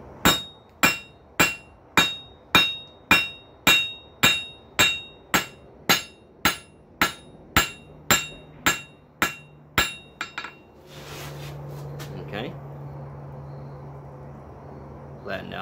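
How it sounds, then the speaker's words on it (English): Metal hammered on the corner of an anvil to flatten round stock into a hinge pintle: about twenty sharp, evenly spaced ringing blows, then a quieter stretch with a steady hum and faint handling. "Flatten out some. Isolate some material in the corner of the anvil."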